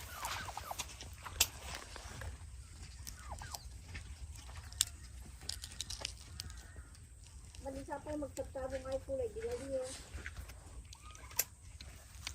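A turkey gobbles on a farm in a rapid warbling burst near the middle, with clucking fowl and speech around it over a steady low background hum.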